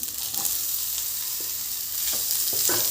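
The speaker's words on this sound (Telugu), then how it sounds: "1/2 కిలో తీసుకున్నాం కదా రొయ్యలు, అవి వేసేస్తున్నాను" Half a kilo of prawns frying in a pan with ginger for prawn curry, a loud steady sizzle broken by scraping stirs throughout.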